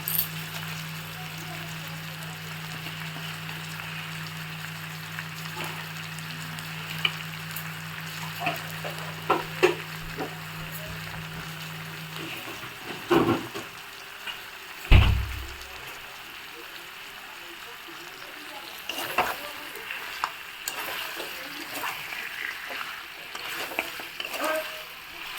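Ginger and garlic fry in a pan for a chicken dish, giving a steady soft sizzle with a low hum early on and a few clanks and knocks of utensils, while a voice speaks faintly in the background.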